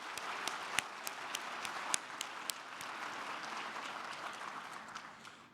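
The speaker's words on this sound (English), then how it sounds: "Please, one more round of applause for our title sponsor." A gala banquet crowd gives a round of applause for the title sponsor: dense clapping from many hands, sharp individual claps popping out now and then. It fades gradually toward the end.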